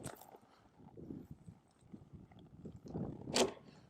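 A horse trots under a ranch rider, hooves landing in an uneven, soft clip-clop at close range, with a sharper knock near the end.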